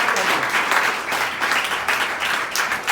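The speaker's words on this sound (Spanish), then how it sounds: "Dele un aplauso al Señor." An evangelical church congregation breaks into loud, sustained applause, a thick wash of hands clapping that swells and dips slightly across a few seconds with no one speaking over it.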